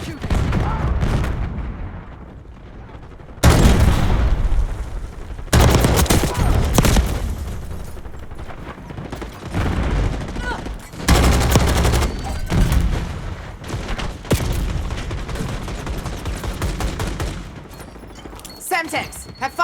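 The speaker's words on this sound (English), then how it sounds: "Enemy marksman shooting." Enemy marksman gunfire in Call of Duty Black Ops 6 multiplayer, several loud, sharp bursts of shots at irregular intervals with other battle noise between them.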